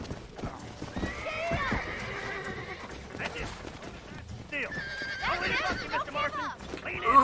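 Horse hooves clip-clop and a horse whinnies in the Western video game Red Dead Redemption, with steady hoofbeats near and clear, mixed with game ambience and occasional voices.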